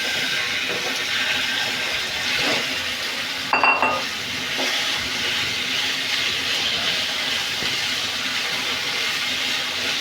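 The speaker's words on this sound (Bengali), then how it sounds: "পরিমাণ মতো তেল দিব। এখন ম্যারিনেট করা গোস্তগুলো দিয়ে দিব।" Marinated beef for shawarma hits hot oil in a pan, giving a steady broadband sizzle throughout with a brief sharper clatter near the start and no voices.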